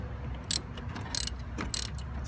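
A socket wrench ratchets in three short, sharp bursts of clicking as it loosens the intake clamp on a Porsche 911 of the 996/997 generation. The work is close up, with quiet pauses between the bursts.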